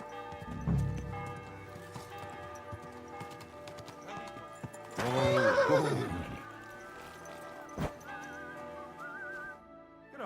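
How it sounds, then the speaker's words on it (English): In the video game Kingdom Come: Deliverance II, hooves clip-clop at a slow walk while a horse lets out a loud whinny midway, with a faint whistled tune in the background. "Easy, good horse."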